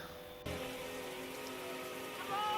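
Steady rain pours down in a horror movie scene, a dense constant hiss that starts abruptly and holds at an even level, swelling slightly louder toward the end, with no talking.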